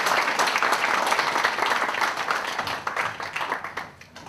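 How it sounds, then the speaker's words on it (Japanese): Audience at a K-1 World MAX 2010 kickboxing press conference applauding as the event producer takes the stage, steady dense clapping from a crowd that fades slightly toward the end. "拍手でお迎えください。"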